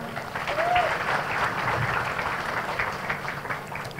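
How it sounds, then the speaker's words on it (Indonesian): An audience breaks into steady applause, a dense wash of clapping that stays loud for the whole four seconds, with a brief voice faintly heard under it. "Tepuk tangan."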